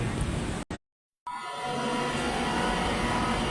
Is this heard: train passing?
yes